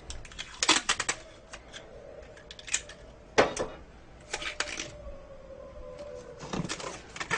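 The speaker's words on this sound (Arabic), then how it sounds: "وبتلزقوه داير من دار بشريط لاصق" Adhesive tape wrapped around the cut edge of a plastic bottle: repeated sharp ripping and peeling bursts as tape is pulled from the roll, separated by quieter handling noises, close and fairly faint with no talk.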